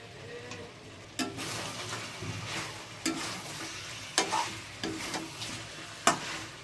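A homemade cumin, coriander and cinnamon spice mix stirred into frying mutton and potato curry, a low sizzle broken by regular scraping knocks of a spoon against the pot.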